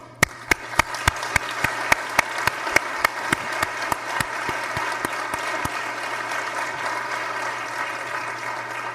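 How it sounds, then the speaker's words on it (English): A hall audience applauds staff at a PAHO session marking the Director's re-election; dense, steady clapping from many hands runs throughout, with a few sharp, close claps standing out in the first half. "I would like to give them a hearty applause of appreciation."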